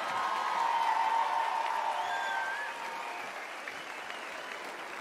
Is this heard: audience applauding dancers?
yes